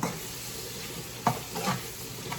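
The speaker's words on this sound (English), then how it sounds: "So a teaspoon and a half of some minced garlic. And we're gonna stir that in." Minced garlic stirred into a frying pan, with a soft steady sizzle throughout and a few brief scraping stir sounds, close and fairly quiet.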